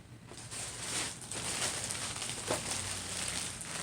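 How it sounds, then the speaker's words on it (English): A plastic bag crinkles and rustles continuously while pillow stuffing is pulled from it, a soft, close, crackling rustle with small crunchy bursts, fairly quiet. "And I'm sorry about the rustling noise"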